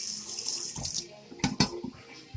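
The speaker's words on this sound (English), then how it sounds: "I'm gonna rinse my knife." Tap water splashes briefly as a kitchen knife is rinsed at a sink, a few short, uneven gushes and spatters heard up close at low volume.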